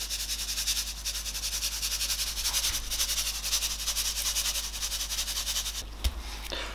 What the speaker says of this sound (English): So we're just going to apply our 2 part pepper to 1 part salt rub.